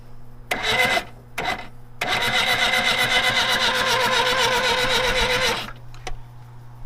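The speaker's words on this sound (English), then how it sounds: "Now let's put power, crank her over." An old car engine cranks over without catching, with two short bursts of the starter followed by a long steady rhythmic grinding crank of a few seconds, close and loud over a constant electrical hum.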